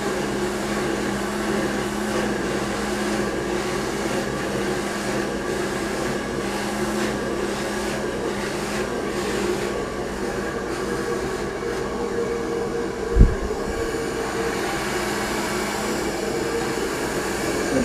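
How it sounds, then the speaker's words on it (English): A hair blow dryer fitted with a nozzle runs continuously with a steady, close whooshing hum during hair styling, with one brief thump partway through. "So we're gonna go right underneath with a blow dryer."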